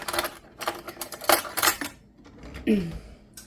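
A spoon clinks and taps against metal cookware while corn casserole is made, a scatter of sharp, close metallic knocks and scrapes in quick irregular bursts, then a softer clatter near the end.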